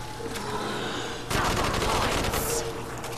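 Zombies-mode shooting in Kino der Toten arrives as a quick run of loud automatic shots after a quieter stretch of game ambience, the rapid cracks clustered together near the player.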